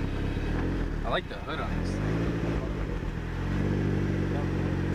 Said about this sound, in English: Four-cylinder EcoBoost Chevy engine. With a turbo.